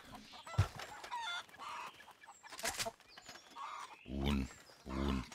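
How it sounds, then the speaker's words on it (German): Chickens and a rooster in Red Dead Redemption 2 online give several separate clucks and calls, the loudest bursts coming near the end, with faint game sounds between and no talk. "Und hier hoffentlich ein Hahn dabei."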